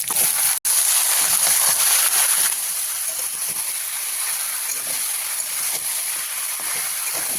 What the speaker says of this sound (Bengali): এবার আমি এখানে দিয়ে দেবো কেটে রাখা লাউ।